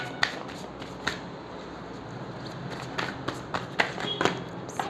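Tarot cards shuffled during a Hindi pick-a-card reading, giving soft, papery riffling with a few sharper snaps and taps scattered through a quiet background.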